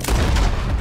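Gunfire in Red Dead Redemption 2 as an enemy is dropped with a headshot: a loud, dense burst of shots with heavy low-end booms filling the whole short moment, no talk over it.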